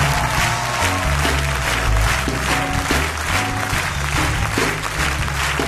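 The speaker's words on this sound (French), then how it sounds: "Acclame le Seigneur avec moi." A church congregation applauds and cheers during an Easter sermon: dense, steady clapping from a large crowd for the whole stretch, with low organ or keyboard music running beneath it.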